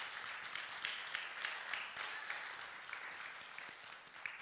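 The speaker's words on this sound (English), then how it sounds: "Y'all keep the clapping going" A church congregation clapping during a worship service, dense sustained applause from many people, fairly soft and even, continuing without a break.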